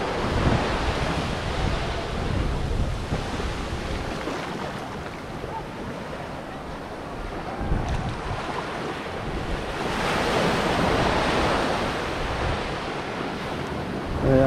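Surf washes onto the beach at Tatamar island near Saint-Martin, a continuous rolling roar that swells and eases, with gusts of wind buffeting the microphone throughout.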